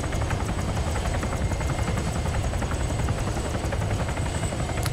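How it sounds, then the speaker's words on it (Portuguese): Helicopter in the ArmA 3 Altis Life video game, a steady loud rotor drone with rapid blade chop filling the whole stretch alone, no voices over it. "Tem mais um helicóptero à nossa direita. Ele tá pousando pra atirar na gente."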